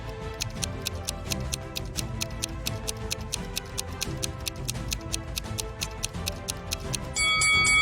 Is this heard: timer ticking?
yes